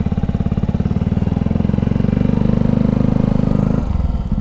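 A Yamaha YZF 125 motorcycle runs steadily close to the microphone, its small single-cylinder engine giving a loud, even, buzzing thrum that holds nearly constant before the pitch drops slightly near the end.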